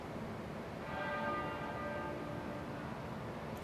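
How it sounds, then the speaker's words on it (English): A single church bell tolls at the Queen's funeral in London, a resonant ringing stroke that swells and then fades slowly over a low background hush. "To the tolling of a single bell"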